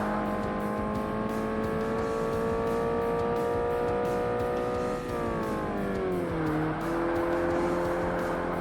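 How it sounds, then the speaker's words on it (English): A race car fitted with an upgraded exhaust in Forza Motorsport (Xbox, 2005) holds a loud, steady engine drone. Its pitch then drops in two steps as the revs fall, with no talking. "I wonder if I made the car louder by putting an exhaust upgrade on it."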